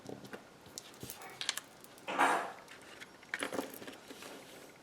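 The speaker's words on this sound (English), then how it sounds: "He's into making wind chimes with silver cutlery." A brief burst of light metallic jingling and clinking from wind chimes made of silver cutlery, with scattered softer clinks before and after, fairly close.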